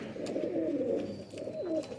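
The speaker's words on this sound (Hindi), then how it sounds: "ये सबसे बड़ा मेन परवाजी ब्रीडर कबूतर है" Golden Kasoori breeder pigeon cooing in rolling, repeated phrases close by, steady and moderately loud with no talking.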